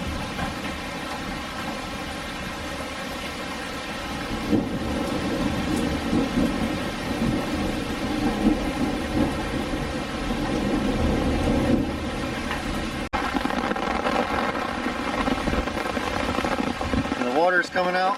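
Heavy rain downpour with thunder, a steady broad wash of falling water and low rumbles running throughout, loud and close, with faint voices briefly audible.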